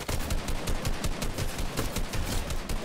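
Rapid automatic gunfire in Fortnite, a loud continuous string of close, evenly spaced shots rattling on without a break.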